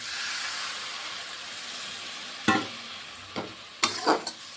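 Pea greens fry and are stirred in a pan with a steady close hiss, then water is added, giving sharp bursts of sizzle and spatter with a few clanks of the spoon near the end.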